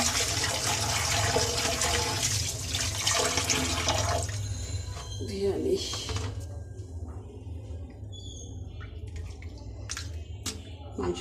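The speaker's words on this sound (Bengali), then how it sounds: "মাংসটা ভালো করে ধুয়ে নিই" Running tap water splashes steadily while raw meat is rinsed in a kitchen, loud and continuous for about four seconds, then tapering into scattered drips and light splashes with quieter water trickling under a low background hum.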